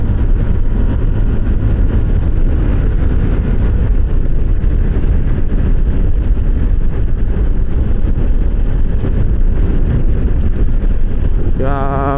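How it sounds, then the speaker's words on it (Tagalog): Strong wind buffeting a microphone on an open, traffic-free road in the Philippines, a loud continuous rumbling roar with gusty fluctuations throughout. "lakas ng hangin"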